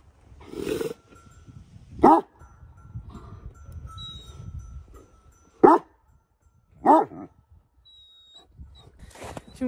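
Dogs in a rural Turkish village in winter bark in a handful of sharp, spaced bursts, a couple of them loud and close, with quieter murmuring and background noise between them.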